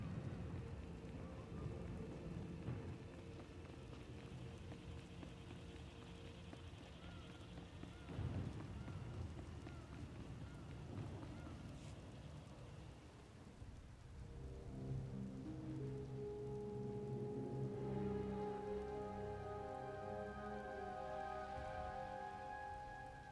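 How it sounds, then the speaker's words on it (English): Steady rain falls during a storm in the video game Star Wars: The Old Republic, a constant wash with faint rumbles. Low, sustained musical tones rise under it partway through. "Hard to track them through the storm. Rain's wiped out the trail."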